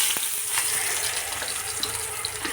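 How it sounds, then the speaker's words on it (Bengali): Chopped onions sizzle steadily in hot oil, a dense, close frying hiss with small pops and crackles, heard alone without talking. "এই জন্য পেঁয়াজ কুচি দিয়ে দিলাম তেলের মধ্যে"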